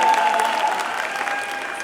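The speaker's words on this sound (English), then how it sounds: "Round of applause, please." An audience breaks into brief applause at a stage event, a dense burst of clapping that fades slightly over under two seconds.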